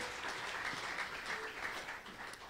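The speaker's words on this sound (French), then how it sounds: "Let's clap for the Lord." A church congregation clapping during a service, a soft, distant wash of many hands blending into a continuous faint rustle.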